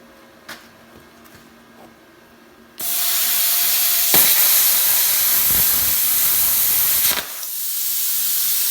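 A Reboot CUT45 plasma cutter cutting metal at 45 amps: a loud, steady, harsh hissing roar that starts suddenly and holds for several seconds, then briefly drops and resumes.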